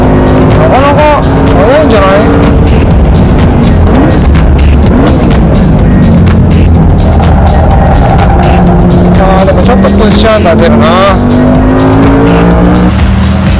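A 500-horsepower Lamborghini Gallardo race car is driven hard on a track, its engine roaring loudly and revving up and down through gear changes, with tire squeal through corners and a voice talking over it.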